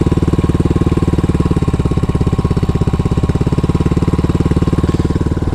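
An RPS Condor 150cc scooter engine with a brand new head runs close by, a loud, steady, rapid pulsing putter at even idle-like speed throughout, with no talking.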